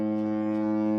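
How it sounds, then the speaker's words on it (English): A deep, steady horn blares loudly and continuously for about a second, a rich droning honk heard alone during a Halloween stream outro. "I just finished my outro with the horn"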